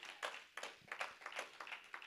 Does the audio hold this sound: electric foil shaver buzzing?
no